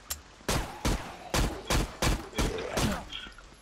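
Seven evenly spaced gunshots ring out loud and close in the zombie shooter game Zompiercer, with a few faint ambient tones between the shots and no speech.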